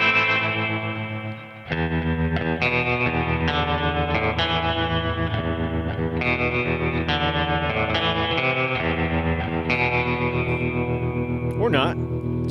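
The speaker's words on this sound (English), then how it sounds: "you could go to the effects and add some tremolo to it. Make it a little faster." A surf-style electric guitar played through a Boss Katana MKII amp with tremolo, giving sustained chords and twangy notes with a wavering, echoing shimmer.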